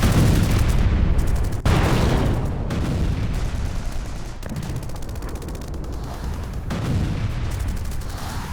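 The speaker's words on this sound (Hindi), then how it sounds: "रूसी आर्टिलरी यूनिट ने गोले बरसाए।" Russian artillery shelling a Ukrainian convoy, heard as loud, heavy booms and blasts repeating every second or so over a continuous rumble, with no voices.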